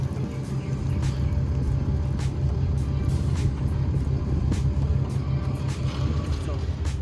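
A truck fitted with SumoSprings drives on a test run, its engine and road noise forming a steady low rumble from inside the cab, with faint voices underneath.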